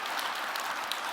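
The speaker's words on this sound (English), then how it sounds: "So a huge round of applause for that." A brief burst of steady audience clapping at the Nordic Women in Tech Awards 2023 in Iceland, dense and even with no voices over it.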